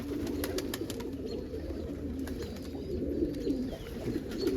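A red check cock pigeon coos in low, repeated rumbling phrases among other pigeons on a windy morning, with faint chirps and scattered clicks over the steady murmur.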